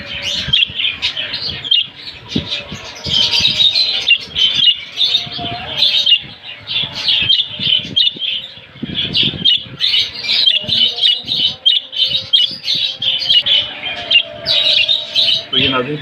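Birds calling continuously at the Korangi bird market, a red-eyed exhibition breeder pair among them, with dense overlapping chirps and tweets close by, a busy chattering chorus throughout and some talk mixed in.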